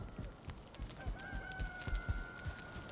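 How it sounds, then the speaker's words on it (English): Game chickens in Valheim cluck and crow in a steady pecking rhythm of short bursts, with a thin sustained tone running over them at a moderate distance. "Oh yeah, the chickens are already going at it."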